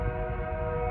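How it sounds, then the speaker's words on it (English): A nearby train pulling out of a station gives a steady tonal hum with a sustained horn-like drone, moderately loud and continuous. "Got the train coming through"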